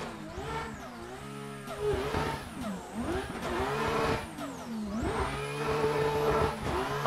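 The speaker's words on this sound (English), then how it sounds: "So we did bring out my pro party car, my Unito Eurofighter, and we're gonna see what this car can do here on this track." A Unito Eurofighter car engine in Assetto Corsa revs up and down through repeated rising and falling sweeps as gears change, loud and close with a steady growl.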